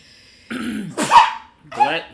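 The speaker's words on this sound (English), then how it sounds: "It's the cutest freaking sneeze ever." A small, high-pitched sneeze with a quick intake of breath, close and clear, following a brief voiced sound, with no other talking over it.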